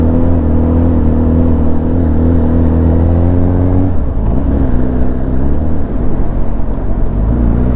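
A Honda Hornet 1000SP motorcycle engine revs loudly in false neutral, a steady throbbing drone that shifts to a rougher, lower pitch partway through.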